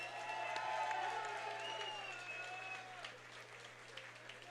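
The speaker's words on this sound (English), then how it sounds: "how about a round of applause for these two great fighters?" A crowd at a kickboxing event applauds the two fighters after a bout, a dense wash of clapping and scattered cheers that is loudest at first and slowly tapers off.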